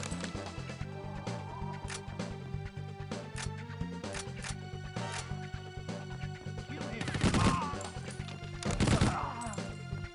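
Gunfire in the N64 game 007: The World Is Not Enough, a string of sharp in-game shots and a couple of louder crashing bursts over a looping music track, with no one talking.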